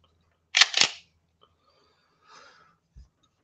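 Two sharp, close mechanical clicks from a Glock 43 subcompact single-stack pistol as the trigger resets, followed by a faint rustle and a soft low thump in an otherwise quiet room.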